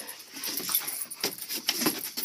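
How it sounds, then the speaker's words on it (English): Dogs wrestling close by on a cool morning, a busy scuffle of scrabbling paws, jingling tags and short rough bursts of play noise, dense and uneven throughout with no talk. "The dogs are wrestling."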